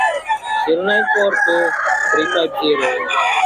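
A rooster crows loudly and close at a poultry farm in Bocaue, its long cock-a-doodle-doo rising and falling over a busy background of clucking chickens.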